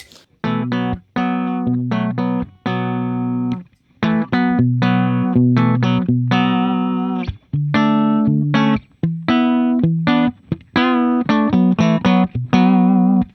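An electric guitar played through a compressor pedal into a Fender Deluxe Reverb amp plays a run of clean, evenly sustained chords and notes with a smooth, compressed attack, close and steady.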